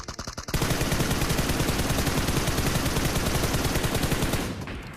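Rapid automatic gunfire in the PUBG Mobile (BGMI) battle royale game, a brief burst and then a long sustained stream of loud, close shots that fades out at the end.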